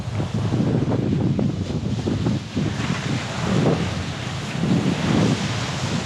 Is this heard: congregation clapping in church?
no